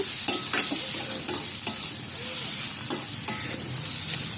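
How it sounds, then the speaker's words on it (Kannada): Onions fry and sizzle in a pan for spring roll filling, a steady close hiss broken by repeated scrapes and stirs of a utensil, with no talking. "ಈರುಳ್ಳಿ ಹಾಕ್ಕೊಂಡಿದ್ದೀನಿ ಚೆನ್ನಾಗಿ ಇದನ್ನು ಫ್ರೈ ಮಾಡ್ಕೋಬೇಕು ನೀಟಾಗಿ"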